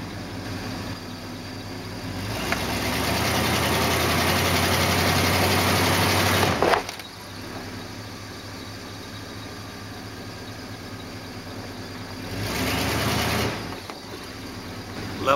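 A road-trip vehicle's engine idles, then swells into a sustained surge as it drives up onto plastic tri-leveler blocks, drops back to a low idle, and briefly rises again, heard close without talk.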